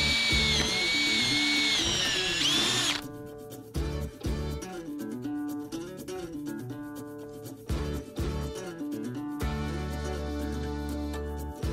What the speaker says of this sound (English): I think drilling might be our best option